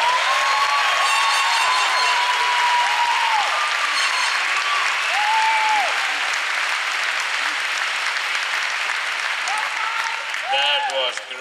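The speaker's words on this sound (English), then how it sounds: "One more round of applause." A graduation audience at a business school ceremony applauds loudly and steadily throughout, a dense wash of clapping with a few faint voices rising above it.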